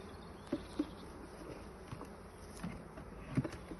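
Honeybees buzz around a hive ten days after a shook swarm, a faint continuous hum outdoors with a few soft knocks and taps scattered through it.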